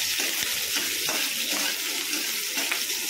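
Garlic and green chili fry in hot oil over crackled mustard seeds and cumin, a steady close sizzle with a few scraping stir sounds and light clicks, no voices.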